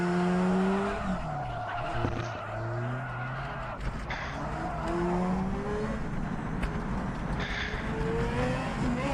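Rear tyres sliding and squealing as a race car drifts on the Targa Sicilia Rinascita track in a racing game, long wavering screeches over a loud, steady engine drone that runs throughout.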